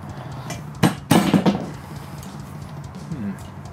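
Hammering on a stainless steel turbo to separate it in a workshop: a few sharp metallic blows clustered together, ringing briefly, followed by quieter handling sounds.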